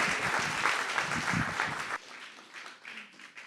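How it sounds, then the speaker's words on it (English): A bar audience at a club event gives a big round of applause, loud mixed clapping and cheers for about two seconds that then drop off sharply, leaving quieter scattered claps and murmur. "Big round of applause"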